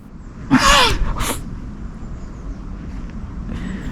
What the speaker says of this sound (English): I managed to film one of the cows sneezing